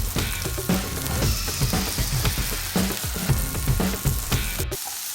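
A thin ribeye steak fries in a hot pan while being pressed down, giving a steady, loud sizzle with crackling bursts and a few soft thuds and scrapes, no voices.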